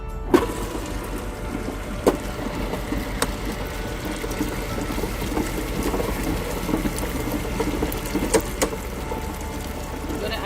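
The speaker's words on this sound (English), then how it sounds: "you want to keep watching the lentil so it has sufficient water as it grinds" A wet grinder hums and churns steadily, grinding soaked lentils for dosa batter with wet, rhythmic grinding and occasional knocks and clicks, a continuous mechanical drone up close.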